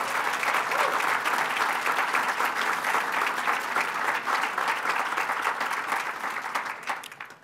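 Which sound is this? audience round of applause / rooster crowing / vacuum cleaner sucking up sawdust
audience round of applause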